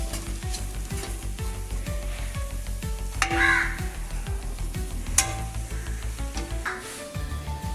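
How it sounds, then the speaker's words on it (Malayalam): Curry with green chilli, chilli powder and garam masala sautés in a pan, a loud continuous sizzle broken by steady rhythmic scraping strokes of a spoon, with a crow cawing faintly in the background. "ഇനി നമുക്ക് എല്ലാം കൂടെ വഴറ്റിയെടുക്കാം"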